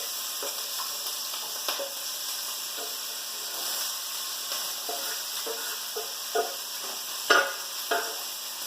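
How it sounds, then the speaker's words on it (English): Peppers, onion and jalapeno stir-frying fast in a very hot pan, a steady soft sizzle with scattered clinks and scrapes of stirring, no voices. "We're going to get this moving quickly like a stir fry."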